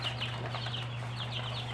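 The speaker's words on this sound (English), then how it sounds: "A lot of chickens." A flock of chickens clucks inside a chicken house, many soft overlapping calls heard at a moderate distance over a steady low electrical hum.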